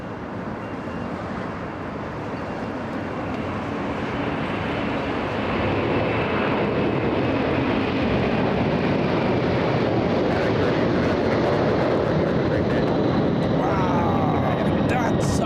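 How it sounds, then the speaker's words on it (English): An MD-11 jet airliner roars down the runway on its takeoff roll at an airport, a broad, steady engine rumble that swells louder midway and holds, heard from a distance without talk. "MD-11 rolling. Oh, I see it. Look at this. It's racing down the runway."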